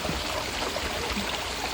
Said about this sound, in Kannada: ನೀರು ಅರಿಯುವ